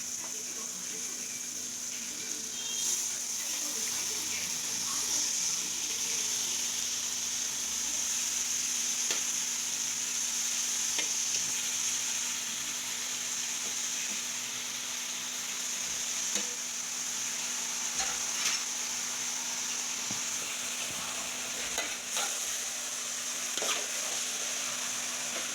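Grated bottle gourd sizzles in a pan, giving a continuous frying hiss with occasional faint scrapes from the stirring spoon and a steady low hum underneath.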